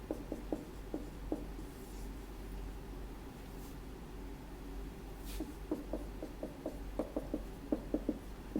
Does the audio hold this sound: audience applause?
no